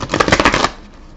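A deck of tarot cards riffled in a quick burst of rapid flutters and slaps lasting about half a second, close and crisp, then a faint settling tail; no talking.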